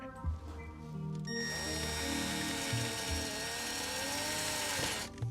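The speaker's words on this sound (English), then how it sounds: "I'm gonna drill a tiny hole in it." A drill boring a tiny hole in a Hasbro Neutrona Wand prop part, a loud steady whine running about four seconds after a few ratcheting clicks, then stopping.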